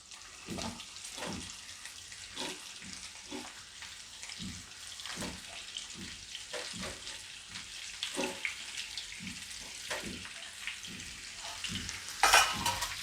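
Potatoes sizzling in groundnut oil for garlicky potatoes, a soft steady crackle and hiss with faint stirring scrapes, one brighter pop near the end.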